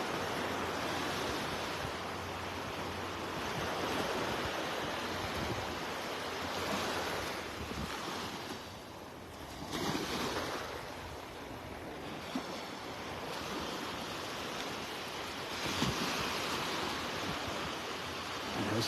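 Ocean surf washes onto Vanderbilt Beach in North Naples, Florida, as a continuous, fairly loud rush of breaking waves that gently swells and fades with no voices.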